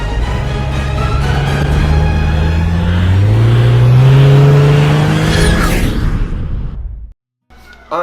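A Jeep JKU 3.6L engine revs through its exhaust, climbing in a loud, close rising roar that holds, then drops off and cuts abruptly to silence before a brief voice.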